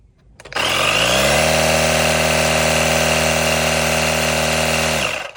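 An air compressor fills the rear air bags on a Ram 1500 RHO pickup to 5 PSI, a steady, loud, droning mechanical hum that starts abruptly and runs unbroken for about four and a half seconds before cutting off.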